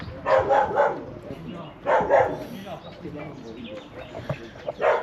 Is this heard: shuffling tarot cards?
no